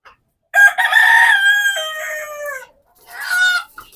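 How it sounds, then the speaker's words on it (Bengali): Native hens in a backyard coop, one settling in to brood, give two drawn-out, wavering calls: a long loud one lasting about two seconds, then a shorter one after a pause. Nothing else is heard. "ভিতরে এই মুরগিটা মনে হয় ডিম দিতে বসছে"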